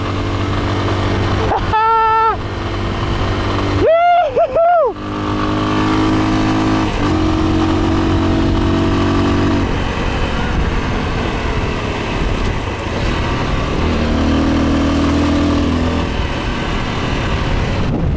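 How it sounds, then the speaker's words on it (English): A motorcycle engine drones steadily on the move across a vast salt flat in Bolivia, with wind rush and passing traffic, loud and close throughout, with a couple of brief horn-like tones early on. "Riding with a motorcycle and this thing feels completely different than being on foot"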